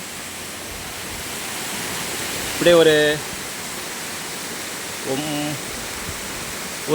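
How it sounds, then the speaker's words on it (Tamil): A natural waterfall drops from more than 25 feet, giving a steady broadband roar of falling water with spray throughout. Someone speaks briefly over it twice. "25 அடிக்கு மேலே இருந்து நமக்கு அருவி கொட்டுறது"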